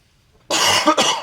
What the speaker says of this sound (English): I've had this cough for quite a while.